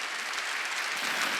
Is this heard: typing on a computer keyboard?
no